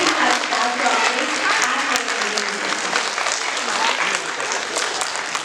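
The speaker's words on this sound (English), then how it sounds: "Please give her a big round of applause" An audience at a dance studio's annual day event bursts into sustained applause, dense clapping filling the room for several seconds with some voices mixed in.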